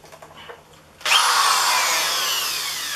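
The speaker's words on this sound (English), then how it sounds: "I should be able to plug in my drill motor" An electric drill motor whirs to life after a second of quiet, then keeps running at a steady high-pitched whine for the rest of the clip.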